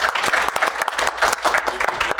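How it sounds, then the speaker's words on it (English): An audience at a media-engagement conference session claps for a volunteer who has just stepped up, a dense burst of moderately loud applause with irregular swells. "I want you all to give our guinea pig a round of applause"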